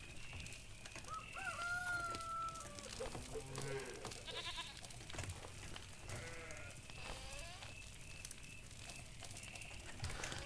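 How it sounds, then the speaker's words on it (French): A rooster crows repeatedly in the video game Force of Nature, long rising calls at moderate distance mixed with other farm animal bleats and clucks, over a busy ambient background. "Le coq a beau chanter, il fait nuit."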